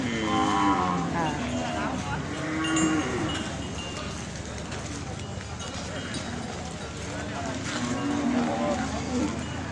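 Water buffalo kept as good breeding stock, from Ku Kaeo, give loud, drawn-out moos a few times, close by, while people talk over and between the calls.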